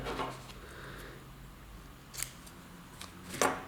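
Scissors snip through bucktail hair while a pike streamer fly is tied, a few short, crisp cuts close by in a quiet room.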